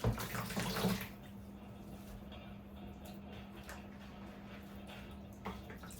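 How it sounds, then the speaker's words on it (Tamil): Water sloshes and trickles softly as greens are rinsed in a pot, with light splashing at the start and a low steady hum behind. "இதை நான் சட்டிக்குள்ளே கழுவி போட போகிறேன்"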